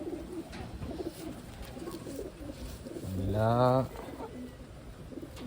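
Taiwan racing pigeons cooing in a loft, a close, resonant throaty coo swelling for about a second near the end amid faint background chatter of birds, with a person talking briefly.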